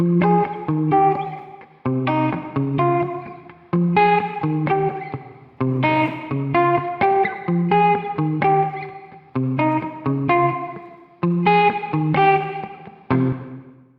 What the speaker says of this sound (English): chorus is widely used for vocals, but I'm using a guitar sample